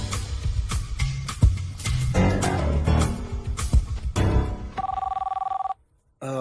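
A telephone rings with an incoming call from India, a series of loud, close, bright electronic ringing bursts in quick rhythm, followed by a steady sustained tone that cuts off into brief silence.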